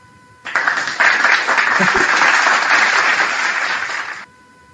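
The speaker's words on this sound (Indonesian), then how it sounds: "Tepuk tangan dong." A burst of audience applause starts abruptly, holds as dense steady clapping for several seconds, then cuts off sharply.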